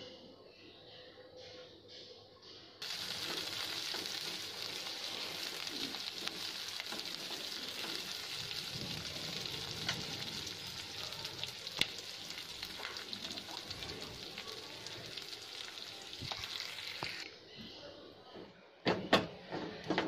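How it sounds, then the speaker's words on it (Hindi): Chopped onion and capsicum sizzle steadily in a hot pan for mushroom Manchurian, a loud, even frying hiss that starts abruptly and runs for about fifteen seconds, ending with a few clanks of utensils. "इसमें हम ये प्याज डाल देंगे और शिमला मिर्ची भी डाल देंगे। इसे भी थोड़ा सा ही सौते करना है।"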